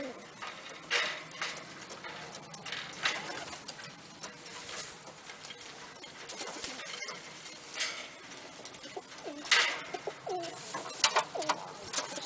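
Birmingham roller pigeons, bald-headed rollers with white heads, coo softly and flutter in a loft. Scattered low calls and light rustling patter recur over about twelve seconds at moderate distance.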